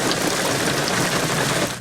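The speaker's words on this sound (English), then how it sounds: "a quick burst of afternoon rain" An afternoon rain shower during a heat wave at Promenade Park pours steadily, a dense loud patter of drops on surfaces that eases slightly at the very end.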